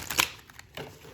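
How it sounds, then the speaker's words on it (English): Tarot cards being shuffled by hand give a couple of quick, soft papery riffles, close and faint. "Let's just shuffle."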